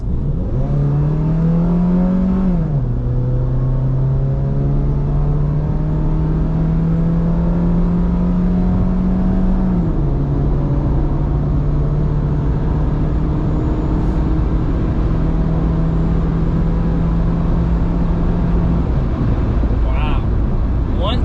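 A car in Mexico accelerates hard at full throttle from a 40 mph roll, its engine note climbing steadily through the gears with a shift near the start and more later, loud and continuous over road and wind noise.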